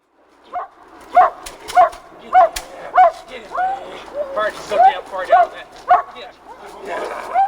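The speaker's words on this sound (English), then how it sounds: "a tug of war ensues between the growling dog and Mark" A trained dog grips a handler's padded leg in a tug of war, giving repeated rhythmic yips and whining barks up close. A person speaks underneath.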